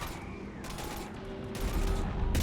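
Bursts of gunfire in Mass Effect 3 against husks, rapid shots coming in a few clustered volleys, moderately loud within a busy game mix.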